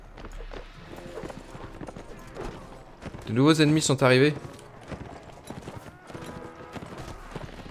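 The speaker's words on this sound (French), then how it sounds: "il y a des chevaux partout" Horses galloping in the Mount and Blade Warband video game, a steady patter of clip-clopping hooves mixed with battle noise, briefly covered by a loud spoken line in French midway.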